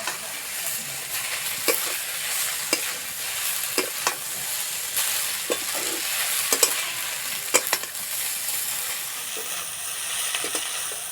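Leftover rice being stirred and fried in a pan, a continuous soft sizzle with repeated scraping taps of a spatула-like utensil at irregular intervals, no voices.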